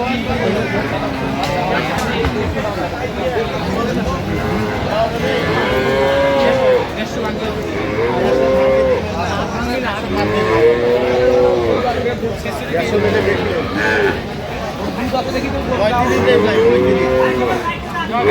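Several dairy cows and calves moo repeatedly at a cattle market in Aftabganj, Dinajpur, long low calls rising and falling over a noisy crowd with people chattering and bidding nearby.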